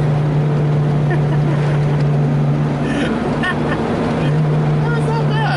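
A 1991 Subaru Sambar 4WD kei van with a high roof and very small tires rounds a curve, its small engine droning steadily up close while people talk inside the cabin.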